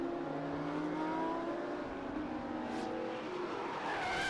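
Race cars cross the finish line at the Mid-Ohio racing circuit, their engines droning loudly and steadily with rising and falling pitch as they pass, and no talking.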